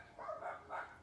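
Dogs barking outdoors, two distant, faint barks in quick succession with no talk over them.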